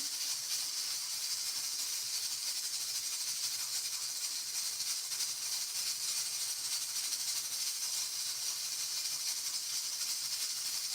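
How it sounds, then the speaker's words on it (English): Steady sizzling of garlic and onion frying in a pot for Jamaican cooking, an even, continuous bright hiss throughout with no talk. "I'm going to go in with some additional garlic too"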